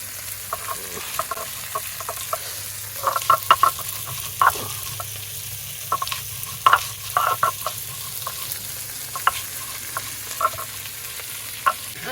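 Shrimp sizzling and crackling in a hot pan, with scattered clicks and pops and occasional stirring scrapes over a steady low frying hiss.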